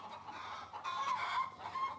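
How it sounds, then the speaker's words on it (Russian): Chickens cluck in a steady run of short calls, moderately close and fairly loud, with no other sounds intruding. "Ну вот опять, слышу только кудахтанье какой-то"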